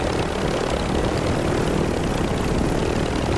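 A helicopter in a video game keeps up a constant loud rotor and engine roar with no voices over it.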